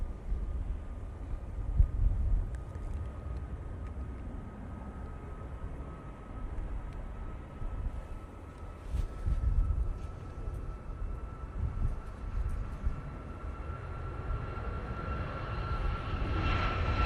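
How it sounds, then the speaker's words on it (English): A Ryanair plane bound for Malta takes off at Manchester Airport, its engines a steady broad roar with a faint high whine throughout, building slightly toward the end; moderately distant, no voices. "Ryanair going off to Malta"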